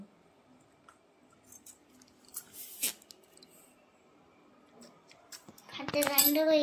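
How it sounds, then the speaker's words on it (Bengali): A ladle stirs food in a hot pot with soft, sparse scrapes and clinks close by, mostly quiet, before a voice rises near the end. "হাতা করে আস্তে আস্তে ধরে নাড়িয়ে দাও"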